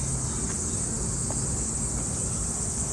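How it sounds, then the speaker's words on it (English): Loud, dense cicadas drone without a break on a summer day in Ueno, Tokyo, a steady high whirring close by that fills the whole scene with no one talking. "I assume you can hear the incredibly loud cicadas."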